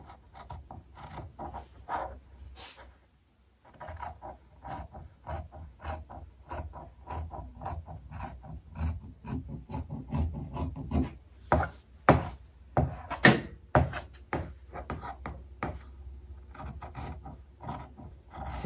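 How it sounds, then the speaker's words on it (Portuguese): A T-shirt heat press machine gives off repeated mechanical clicks and ratcheting clacks at an irregular pace over a low hum, close and moderately loud. "Barulho aí é da nossa máquina, nossa prensa."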